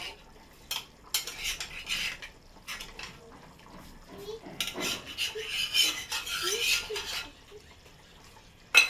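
Poached eggs are eased into a bubbling egg and potato curry. Metal spoon scrapes and clinks against the pan sound close, mixed with soft splashing and simmering and scattered irregular taps.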